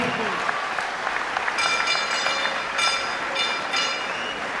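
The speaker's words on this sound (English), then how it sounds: "how about a big round of applause once again?" Boxing crowd applauds at a Bob Rose Cup bout after the decision, a steady wash of clapping in a large hall with a voice over it.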